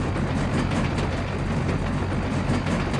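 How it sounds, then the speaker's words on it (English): A trailer in Farming Simulator 25 rattles as though unbalanced on rough gravel, a loud continuous clattering rumble with rapid rhythmic clanks, much like an old train wagon. "Everything sounds like the trailer's running down an old gravel road and it's completely imbalanced."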